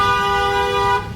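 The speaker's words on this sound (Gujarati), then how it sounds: "ભાઈને ઉતાવળ છે બહુ એટલે એ ભાઈ હોરન માર થયા છે" A vehicle horn blares in one loud, steady, close-up honk on a city street in Surat, India, holding for about a second before cutting off, with no talk over it.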